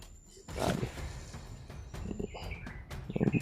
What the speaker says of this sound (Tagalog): Yung tunog ng mga tunog kagubatan ba?